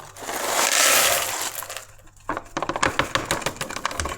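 Dry Continental Alfredo pasta noodles are tipped from a packet into a pan: a rustling, crinkling pour first, then a burst of quick crisp rattles and clatters as the pieces land.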